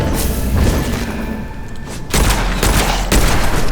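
Revolver shots in the fantasy shooter Witchfire fire in loud booming bursts, several heavy reports piling over one another across a few seconds, with no talking.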